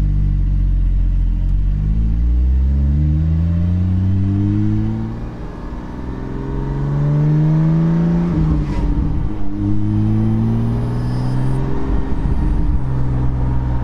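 Porsche 718 GT4 with a Soul Performance aftermarket rear exhaust section, loud and close as the engine revs up through rising pulls, then drops onto overrun with a brief crackle, before climbing again with no talking.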